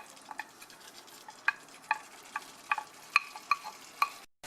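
Sliced karela (bitter melon) stirred into a pan of yogurt masala, a faint bed of sizzling broken by a series of sharp spoon clinks and scrapes against the pan.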